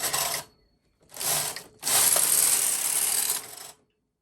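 A domestic knitting machine's carriage is pushed across the needle bed to knit a row, giving a loud, close mechanical rasping whir in three sweeps, the last one long and steady.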